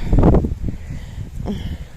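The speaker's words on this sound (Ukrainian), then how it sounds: "О, який вітер." Strong wind blows through an outdoor vegetable garden, a loud, close gusty roar buffeting the microphone with some rustling.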